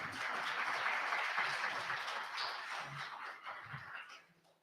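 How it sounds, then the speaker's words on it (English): An audience at a civil society and think tank forum in Podgorica gives sustained applause for Tanya Ivanova, a broad wash of clapping from a sizeable crowd that holds steady, then thins and fades toward the end. "Give Tanya a round of applause,"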